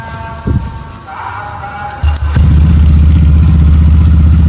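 A replica Ducati motorcycle engine catching after a starter whir and a few clunks, then settling into a loud, steady, low idle close by, with no talk.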